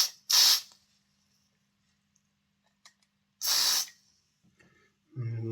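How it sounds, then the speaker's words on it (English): Contact cleaner is sprayed into the motor of a Jouef Class 40 model train in two short, loud hissing bursts with a pause between them, followed by faint handling clicks. "I'm just going to give it a scoosh out with some contact cleaner."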